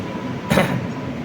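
An Ernad Express train rumbles past near Kayamkulam, Kerala, with a brief surge of loud broadband noise partway through, over steady rail clatter and hum.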